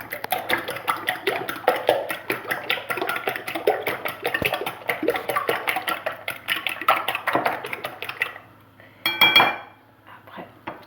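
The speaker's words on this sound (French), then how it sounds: "On remue." Seven eggs beaten in a bowl, a fast, close, steady clatter of a utensil whisking against the sides that stops near the end, followed by a few louder knocks and light clinks.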